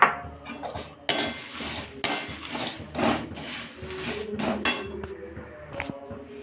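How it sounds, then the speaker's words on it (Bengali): Puffed rice and fried peanuts being stirred in a pan over a low gas flame, with sharp metallic scrapes and clinks of a utensil against the pan at irregular intervals, close and fairly loud. "পুরোই মুড়িটাকে কিন্তু ভাজতে হবে পুরো লোতে, গ্যাসটাকে লোতে রেখে ভাজবো"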